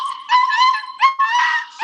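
Puppies whimper and yip close by, a run of high, wavering whines broken by short sharp yelps, loud and continuous with no talk over them.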